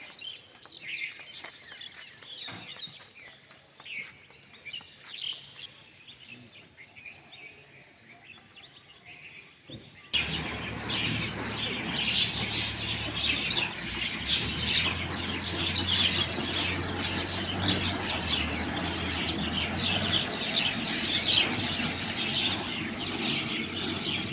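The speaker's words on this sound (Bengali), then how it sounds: "এই পাখিগুলো এখানে প্রতিদিন খাবার খেতে আসে।" Birds chirping and tweeting as they gather to feed on bread, first sparse, light calls, then a dense, louder chorus of many birds with busy background noise.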